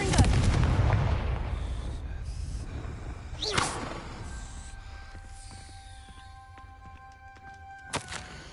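The Confringo fire spell is cast in the Hogwarts Legacy video game, opening with a loud booming blast that rumbles away. A sharp whooshing burst follows, then faint clicks and tones, and a short crack comes near the end.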